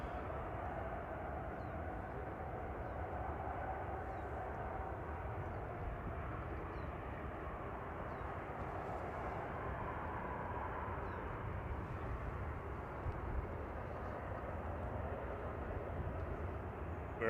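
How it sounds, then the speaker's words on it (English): An Airbus A380 taxis at Manchester Airport, a steady, distant jet engine rumble holding evenly throughout with no talking. "the A380 is now finally taxiing"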